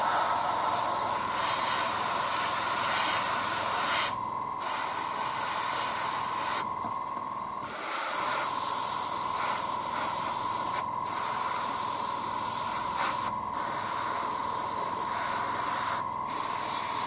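An airbrush sprays paint in steady bursts onto a 1:35 scale KV-2 tank model for winter camouflage, a continuous close hiss with a few brief pauses between passes.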